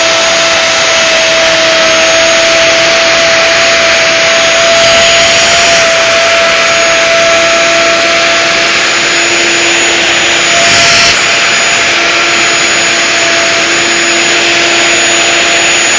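Wood router with a grooving bit cutting into wood, a loud, steady, high whine that runs continuously close by, with a steady tone under the noise.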